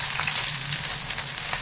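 Sliced onions and green chilies frying in hot oil, a steady, close hiss of sizzling that holds even and loud throughout the short stretch.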